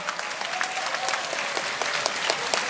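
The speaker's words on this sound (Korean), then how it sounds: "박수 한번 부탁드리겠습니다" A concert audience at a comedy-themed show in Korea claps steadily, a dense, loud, even patter of many hands that continues without a break.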